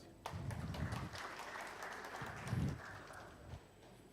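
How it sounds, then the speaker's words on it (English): Audience applause at the CIO100 2023 tech gathering, a fairly steady wash of clapping from a moderate distance that lasts about three seconds, swells briefly near the end and then cuts off. "So please clap for yourselves."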